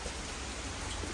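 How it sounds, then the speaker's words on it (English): Heavy rain pours steadily at night outside an old mill during a storm, a dense, even hiss of drops hitting the ground with no break in its steady intensity. "Like, it's so raining."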